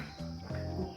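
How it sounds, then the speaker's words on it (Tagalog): Crickets chirp outdoors at Graskop Gorge in South Africa, a steady thin high trill running throughout the brief moment with low rumbling ambience beneath. "plus kuliglig"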